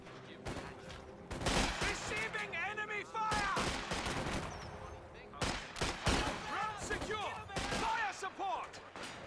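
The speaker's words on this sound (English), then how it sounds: "We do have now Commissioners get hit by the MG42." An MG42 machine gun fires loud, dense bursts in the World War II strategy game Company of Heroes 2, mixed with other gunfire and explosions. A caster talks over the battle throughout.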